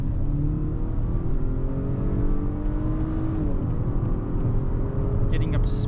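A 2025 Acura RDX A-Spec accelerates steadily, heard from inside the cabin as a smooth engine note that climbs through the gears under a continuous road rumble while a person talks over it.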